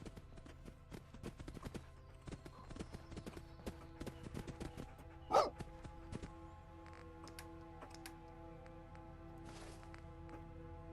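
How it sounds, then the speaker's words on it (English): A companion dog in the Fallout London video game pads around with a quick run of light, clicking footsteps over a low background hum, then a single short bark rises midway, with sparser steps afterward and no speech. "Where did my dog get to? I can hear him."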